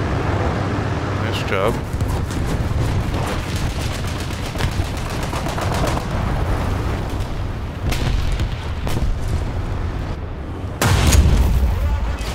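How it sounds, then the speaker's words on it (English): A bomb explodes near a KV-1 tank in War Thunder, with heavy booms and gunfire rumbling throughout and a loud blast near the end, while a voice talks over the battle. "I just got bombed, didn't I?"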